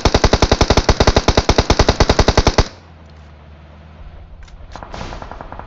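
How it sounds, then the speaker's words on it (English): Rapid automatic gunfire in the battle royale game PUBG, a loud close burst of evenly spaced shots lasting under three seconds, then cutting off to quiet background with faint distant rumble. "Someone else shooting at us."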